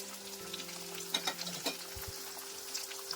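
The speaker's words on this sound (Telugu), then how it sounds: "ఇలా అన్నింటినీ వేసుకున్నాక దోరగా ఫ్రై చేసుకోవాలండి" Urad dal, chopped onions, garlic and ginger frying in a pan, a steady close sizzle with a few brief stirring clicks and scrapes, no voices.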